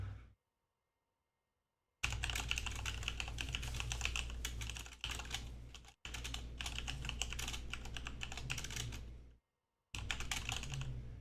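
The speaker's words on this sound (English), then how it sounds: "I know I'm typing loud." Loud, rapid typing on a computer keyboard, dense clattering keystrokes in long bursts separated by brief silent pauses, close and alone without talk.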